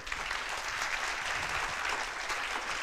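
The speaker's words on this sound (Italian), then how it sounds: "io proporrei di fare un altro applauso" Steady applause from an audience at a climate-change talk, a dense, even wash of many hands clapping at a fairly soft level for about three seconds with no voices over it.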